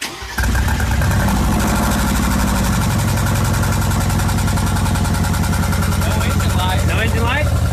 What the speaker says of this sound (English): Let it warm up a little bit. Then I'll gas it.